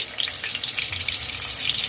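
Fish fry pieces crackle in oil over a low-to-medium flame, giving a steady, close, bright sizzle that holds constant with no talking.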